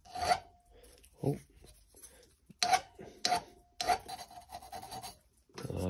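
Metal file rasping on a part during a classic Mini restoration, several close, loud strokes in irregular bursts with quiet gaps between, a brief voice exclamation at one point.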